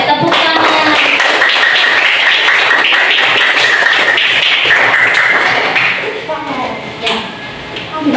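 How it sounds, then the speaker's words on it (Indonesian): Students in a classroom clap together, a loud, dense burst of rapid hand claps that thins out and fades toward the end, with some voices mixed in. "oke, tepuk tangan."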